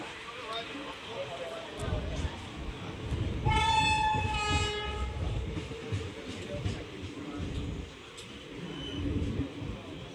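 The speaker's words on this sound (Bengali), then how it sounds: "এই যে অবশেষে আমাদের ট্রেনটা চলে এসেছে।" A train pulls into a station, its low rumble and clatter building, with a loud horn blast sounding for about a second midway while people talk nearby.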